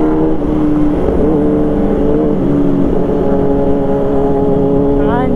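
A sport motorcycle with a loud aftermarket exhaust drones steadily and close during a group morning ride, with the engine pitch climbing near the end. Wind noise runs underneath, and a rider talks over it.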